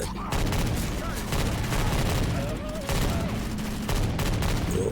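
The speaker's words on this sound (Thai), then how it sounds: "ตอนนี้ยิงมั่ว ๆปืนมันแรงจริง" Dense, continuous gunfire from the Left 4 Dead 2 video game, loud and close, with rapid shots packed in waves and brief gaps, while players talk underneath.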